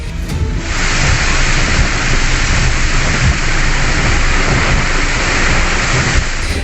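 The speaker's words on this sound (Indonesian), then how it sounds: "hujan deras mengguyur desa Surya Mataram, Kecamatan Marga 3, Kabupaten Lampung Timur" Heavy rain pouring steadily over a village in East Lampung, Indonesia, a dense, loud, unbroken roar of rainfall with wind, no voices.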